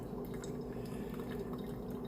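A steady, gentle trickle of water poured slowly over coffee grounds, continuous for a couple of seconds, soft and close, with no voices.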